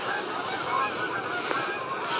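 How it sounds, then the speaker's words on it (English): Geese honk outdoors, a few scattered, fairly faint calls over steady background noise. "What are the geese doing back?"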